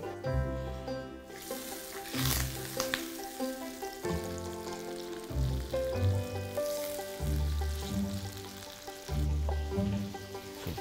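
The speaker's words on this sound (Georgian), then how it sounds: "ტაფა გავაცხელოთ ძალიან კარგად, კარაქი და ზეთი და დავდოთ ეს ჩვენი არაჩვეულებრივი ნაჭერი, ხორცის ანტრიკოტი" Beef entrecote steak frying in a hot pan with butter and oil, a steady close crackling sizzle that rises and falls in pulses over about ten seconds, with no talking.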